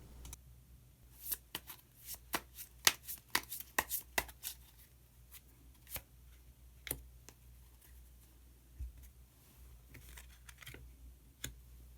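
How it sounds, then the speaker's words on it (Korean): Tarot cards shuffled to draw a hidden card, a close run of quick crisp card flicks and taps bunched near the start, then sparser snaps and slides, with no talk. "그러면은 히든 카드를 한 장 더 뽑아보도록 하겠습니다."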